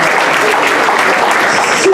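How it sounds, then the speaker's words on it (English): Audience applause at a gala fills the room, a dense, steady wash of clapping from many hands, loud and sustained from start to finish. "We have a round of applause for them"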